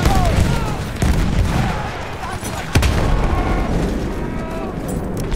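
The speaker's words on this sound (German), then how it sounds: "Aufpassen, Granate los!" Battlefield 1 conquest battle on the Rupture map: a grenade blast and bursts of gunfire sound through dense, continuous combat noise, with sharp loud hits around one and three seconds over a constant rumble.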